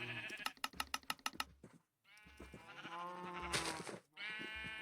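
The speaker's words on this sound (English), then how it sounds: "We do need to feed some sheep." Minecraft sheep in the Cobblemon mod bleat several times, loud and close, after a burst of rapid computer keyboard typing.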